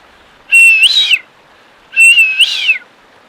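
A person imitates a loud whistle twice, each one sliding from low to high and ending in a warbling flourish, with a short pause between them.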